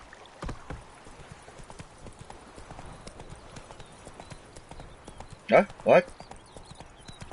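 Roach, the horse in Witcher 3, galloping: quick, soft hoofbeats run steadily in the background, broken near the end by two brief, sharper bursts and a short spoken word.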